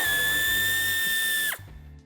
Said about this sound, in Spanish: para poder desmontar el tornillo que veis aquí